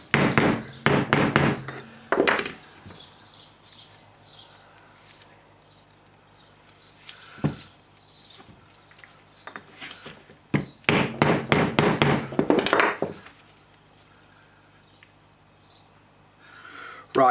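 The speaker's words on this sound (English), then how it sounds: "I'm just going to tap that in gently with my wooden drift here" A wooden drift taps a metal retainer into the front brake caliper of a Triumph Bonneville T140, giving clusters of sharp, close knocks separated by quieter gaps with faint birdsong in the background.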